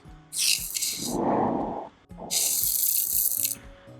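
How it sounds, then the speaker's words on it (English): Two bursts of hissy rattling with a gritty, rushing sound between them, as coffee beans shift and pour, close and fairly loud. "I found a small part before the coffee bean filling sound effect"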